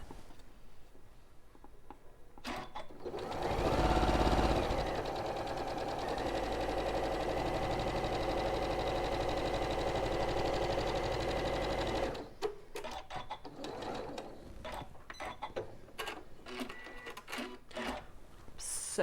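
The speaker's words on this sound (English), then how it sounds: "So we're going to sew both sides." A sewing machine stitches both sides of quilt fabric in one fast, even mechanical whir lasting about ten seconds, with quiet fabric handling and clicks before and after.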